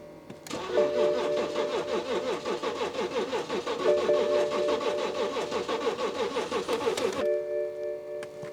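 A stolen BMW X5 engine cranks and catches, then runs with a steady, loud rough idle for several seconds before cutting off abruptly, leaving a quieter background hum.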